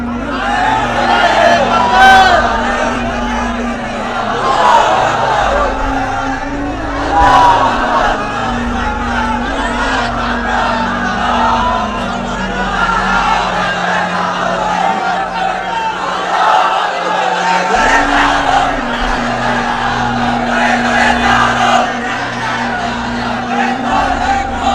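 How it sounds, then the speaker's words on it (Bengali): A crowd at a religious gathering shouts a slogan together, loud massed voices rising in repeated waves over a steady drone, sustained throughout. "স্লোগান লাগবে। স্লোগান দেন একজন।"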